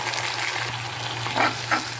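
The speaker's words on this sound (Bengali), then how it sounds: "মশলাটা দিয়ে আমি দু মিনিটের মতো একটু ভাজা ভাজা করে নেব" A spice paste fries with chopped onions in hot mustard oil in a pan, giving a close, steady sizzle with a couple of brief stirring scrapes.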